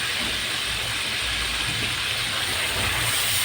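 Ginger garlic paste sizzling in hot ghee over high heat while cooking a smoky chicken karahi, a steady dense hiss that holds even and fairly loud throughout.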